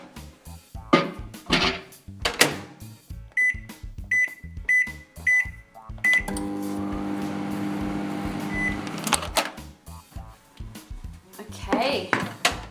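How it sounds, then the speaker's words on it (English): A microwave oven hums steadily as it runs for a short time heating Wilton candy melts, preceded by several keypad beeps and surrounded by clattering dishes and a person talking before and after. "now we're going to pop it into the microwave again for 30 seconds on power level 7"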